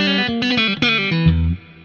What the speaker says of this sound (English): what you gotta do is the Stevie Ray Vaughan lick.